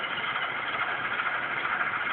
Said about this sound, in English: it basically sounds like an Alco engine